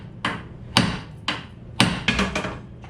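A hammer smacks the side of a Jeep TJ steering knuckle to pop loose a ball joint: about six sharp metallic blows, close and loud, at an uneven rhythm with two quick strikes near the end.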